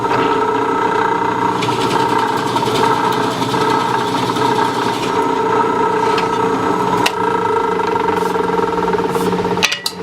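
A power drill whirs steadily and loudly for about ten seconds at an even pitch, boring a small hole in wood, then briefly stops and catches near the end.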